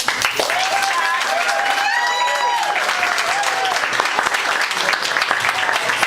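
An audience at a book release party in a Toronto deli applauds loudly and continuously, with whoops and cheers over the clapping and voices in the crowd throughout.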